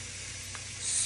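Peppers and onions sizzle in a pan with pad thai mix, a steady close hiss that swells louder toward the end, with no talking.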